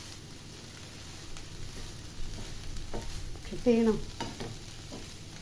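Green gram is stirred with jaggery syrup and grated coconut in a pan, a soft scraping and faint sizzle with brief louder clatters; a voice speaks briefly.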